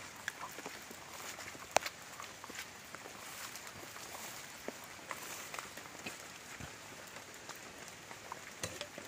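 Heavy overnight rain at a fish nursery pond falling steadily and quietly, with scattered drips and taps striking nearby surfaces; no one speaks.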